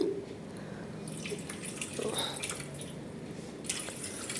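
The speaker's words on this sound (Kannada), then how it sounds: "ಒಂದು ಅರ್ಧ ಕಪ್ ನೀರು ಹಾಕೋಣ ಒಂದು ಅರ್ಧ ಕಪ್ ನೀರು ಹಾಕಿ" Half a cup of water poured into a pot while making filter coffee at home, a faint steady trickle and splash under low kitchen room noise.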